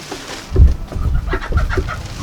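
Chickens cluck in short, close bursts, a few soft clucks building into a quicker run of calls.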